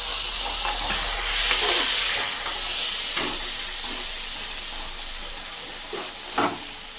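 Chopped tomatoes tossed into hot oil with chopped ginger and green chillies, hissing and sizzling loudly right up close, with a few soft stirring knocks as the mixture cooks down for mung dal with fish head.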